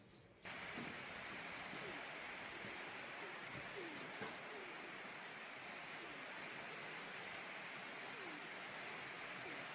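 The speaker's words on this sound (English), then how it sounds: "That noise is rain on my roof." Rain falls on a house roof, a steady, soft, even hiss of countless droplets that starts abruptly and continues unbroken. No other sounds stand out.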